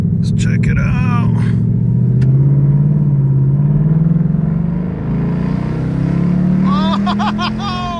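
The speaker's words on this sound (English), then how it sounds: "So Sport Plus, and then I switch the exhaust to track." Ford Mustang GT V8 running on E85, exhaust set to track mode, rumbles loudly and close with a rising drone as it pulls, while someone talks over it.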